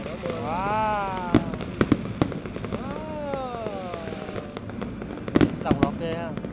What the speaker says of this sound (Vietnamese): Có những cây pháo đẹp lắm. Nguyên một lọt lên nó nổ ra